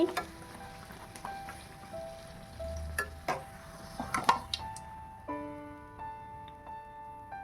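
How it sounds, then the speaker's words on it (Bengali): Puffy luchi flatbreads fry in hot oil, giving a soft continuous sizzle broken by sharp metallic clinks and taps of a utensil against the pan. "লুচি ভাজা হচ্ছে, ফুলকো ফুলকো লুচি।"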